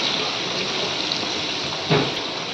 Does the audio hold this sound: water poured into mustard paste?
yes